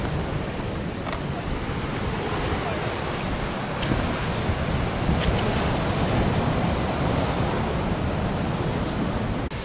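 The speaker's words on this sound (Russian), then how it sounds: "волны здесь, ну, высота у всех разная, но однозначно, эта мощь океана, она впечатляет" Atlantic Ocean surf breaks on the rocky coast near Sintra, Portugal, a continuous loud wash of waves with wind buffeting the microphone, heard close and without talk.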